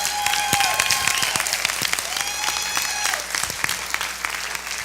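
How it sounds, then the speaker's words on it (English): A leadership development seminar audience breaks into steady, full applause, many hands clapping close and loud for about five seconds, with a few cheers and voices scattered through it. "Give her a round of applause."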